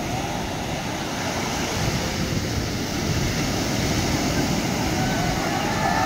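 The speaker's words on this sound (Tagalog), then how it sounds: "Ang laki ng alon, no?" Continuous roar of big surf breaking nearby at Driftwood Beach, Barretto, Zambales, a dense broadband wash with wind buffeting throughout and no distinct pauses.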